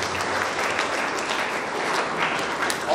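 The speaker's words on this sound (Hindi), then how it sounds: "उनके लिए भी हम प्रार्थना करें और जोरदार तालियों के द्वारा धन्यवाद करें।" Steady audience applause fills a hall at the inauguration and blessing of a Catholic catechetical pastoral centre, a dense even patter of many hands clapping for three seconds with no talk over it.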